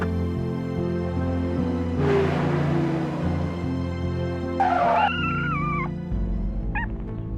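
A low car engine hum with a brief skidding rush as the car hits a pregnant cat, which yowls in wavering cries and gives a short final meow.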